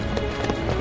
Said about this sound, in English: The footsteps lead here.